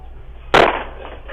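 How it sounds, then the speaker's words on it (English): A foot kicking a house door, picked up by a doorbell camera: one loud, sharp bang that rings briefly and fades, standing alone against low background hum. "The man who owns the house is able to hear the loud bangs of the attempted burglar's foot hitting the door"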